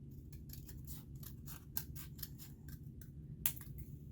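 Scissors snipping through paper to cut out a sleigh piece for a Santa easel card, a quick series of close, crisp cuts in an irregular rhythm, with no talking.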